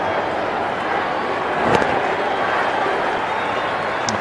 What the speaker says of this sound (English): Applause all round.